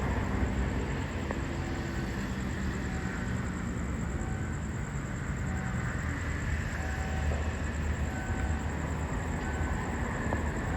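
A special express train rumbles past nearby at night near Samsen station in Bangkok, a continuous, even roar of wheels and rails, steady throughout with no voices.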